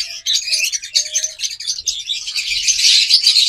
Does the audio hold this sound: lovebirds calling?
yes